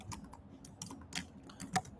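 Quiet, close typing on a computer keyboard while entering an Excel formula: irregular clusters of soft key clicks with one slightly sharper tap near the end, no talking.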